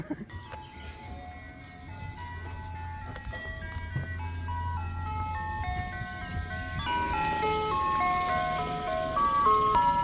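A tinkling ice cream truck jingle plays its melody, growing louder as it approaches, with a low engine rumble underneath.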